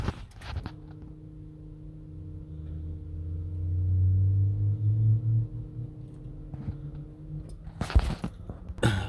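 A new electric fuel pump fitted to a VW Polo Mk2F runs with a steady low hum and a faint whine for several seconds. Knocks and handling noises are heard at the start and end.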